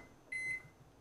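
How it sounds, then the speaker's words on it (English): A microwave oven switches on with a single sharp electronic beep, followed by a faint low hum, quiet and close. "Let's turn on the microwave."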